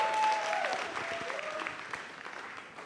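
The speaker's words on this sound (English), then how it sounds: "A big round of applause for all of them, please." Audience applause at a stage play: a dense, steady crowd clapping that fills the room, easing slightly toward the end before a sudden loud burst at the close, with faint voices underneath.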